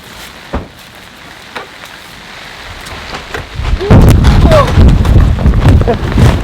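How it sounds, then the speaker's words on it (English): Quiet rumbling at first, then a sudden heavy downpour roars in over a storm campsite, loud and dense, with a brief voice or exclamation over the rain. "And here is the rain."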